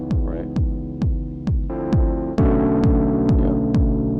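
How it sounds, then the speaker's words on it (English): Distorted piano sample on an Ableton Move, struck in a regular sequence of about nine thudding notes with a gritty sustained tone, each hit falling in pitch, growing fuller and louder partway through. "that piano sound has a nice distortion."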